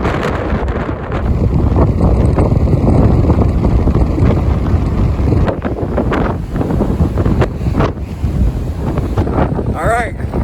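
Strong blizzard wind buffets the microphone near a snow-covered interstate on Afton Mountain, a loud continuous roar with surging gusts throughout.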